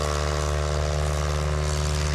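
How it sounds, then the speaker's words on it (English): A 180 horsepower Carbon Cub airplane in flight gives off a steady, loud propeller drone with a constant pulsing hum that stays even throughout and has no voices over it. "flying a 180 horsepower Carbon Cub that he's been flying"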